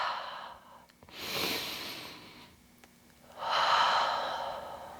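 Deep slow breaths held in a yoga backbend pose, two long audible exhales or inhales separated by a quiet pause, close and breathy with no speech.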